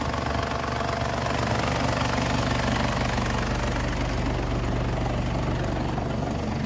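A Mazda BT-50 military pickup idles, its engine giving a steady, low, continuous rumble with an even mechanical hum and no voices.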